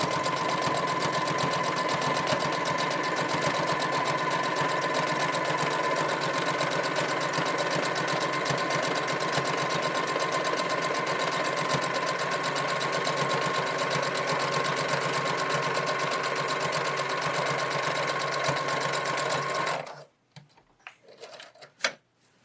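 A sewing machine stitches a hem on felt, running steadily and fast for a long stretch, a loud continuous mechanical whir, then stops abruptly, leaving a few faint clicks and knocks.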